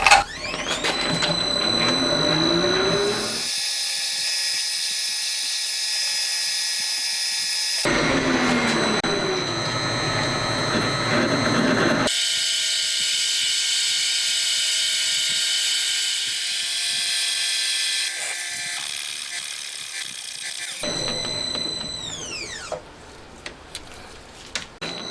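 A machine tool cuts a metal part for a Honda Monkey engine build with a loud, steady whine and tonal cutting hum. The sound comes in long stretches, broken by short pauses, and no one talks.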